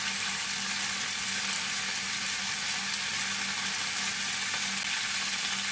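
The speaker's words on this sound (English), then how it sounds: "It's important to saute your meat." Pork ribs sautéing in a hot pan for a stew, a continuous even sizzle and crackle of frying, close and steady throughout, with no talking.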